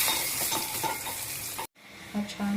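A tadka of cumin, asafoetida, plenty of garlic, chili and spice sizzles and crackles steadily in hot oil for dal khichdi, with stirring scrapes, a momentary cut-out, then the frying resumes.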